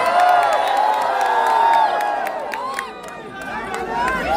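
Large crowd at a live film promotion event at Dubai Global Village, roaring with whoops, shrieks and cheers in a continuous swell, loud and close, with voices shouting over the din.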